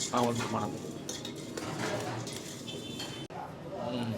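Avare mixture snack ingredients, including avarekalu, avalakki, peanuts and fried garlic, are mixed in a metal vessel. Continuous scraping and clinking runs throughout the mix, close up, with a person talking over it.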